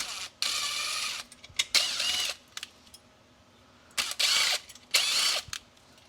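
Torx T20 screws being backed out of Ford Explorer factory radio brackets with a power driver, in several short whirring bursts separated by pauses and small clicks, close up with no talking.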